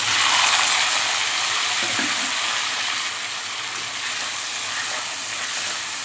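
Onions, tomatoes and green chilies sauté in groundnut oil in a kadai, giving a steady, close hiss and sizzle throughout with no talk.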